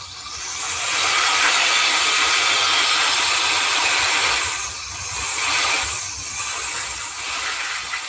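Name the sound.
air blown from a tool to clean radio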